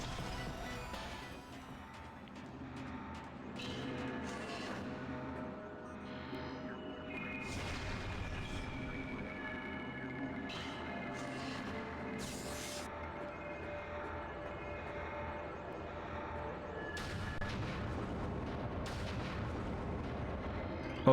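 Missile shots and heavy booms from the Metroid Prime video game, fired at Metroids in the Phazon Mines, several dull blasts and thuds spaced over a continuous droning game ambience with sharper bursts scattered throughout.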